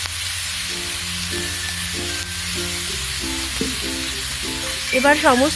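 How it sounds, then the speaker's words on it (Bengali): Spices and turmeric sizzle and fry in oil with chopped onions, a steady frying hiss under a woman's speech, with a brief louder stirring scrape near the end. "মশলাগুলো দিয়ে নেড়ে নিব"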